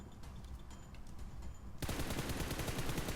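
Gunshots in a video game: scattered quieter shots at first, then a sudden loud, dense burst of rapid automatic fire that keeps rattling without pause to the end.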